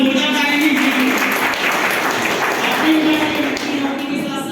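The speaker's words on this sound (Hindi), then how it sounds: "एक बार जोरदार ताली दीजिए।" An audience at a motivational talk applauds loudly, a continuous dense clapping wash, while a voice speaks over it.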